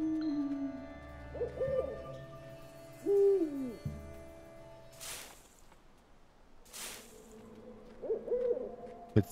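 An owl hoots repeatedly in the forest ambience of the video game Endling, several soft tonal calls spaced apart over a quiet background hum, with a couple of brief rustling noises between them.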